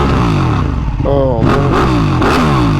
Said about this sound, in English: The bass that this L Twin puts out is incredible.